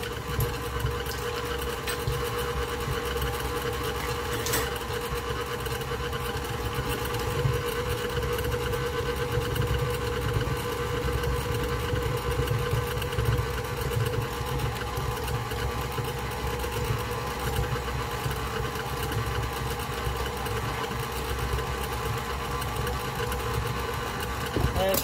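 A stand mixer churns thick keto cheesecake batter with a continuous, steady motor hum and a rhythmic mechanical whir that runs unbroken for the whole stretch.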